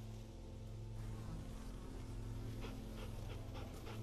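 A dog pants steadily in The Walking Dead Season 2 video game, a close, continuous breathy rhythm over a low, constant background hum.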